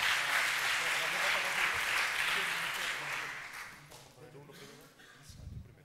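Audience applause at a Naukas Bilbao 2013 science talk event, a full round of clapping that dies away after about three seconds, giving way to a speaker talking.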